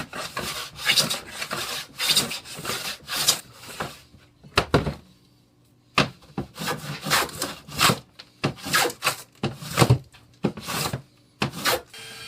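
Number 8 hand plane shaving wood for a cutting board, with a series of loud, close rasping strokes in a steady rhythm and a short pause midway.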